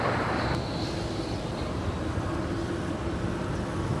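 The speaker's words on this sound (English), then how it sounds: "Delta Airlines Flight 519 coming in from Boston, a 757-200." Delta Air Lines Boeing 757-200 airliner arriving at LAX from Boston, a steady broad jet roar heard at a distance, constant and unbroken throughout.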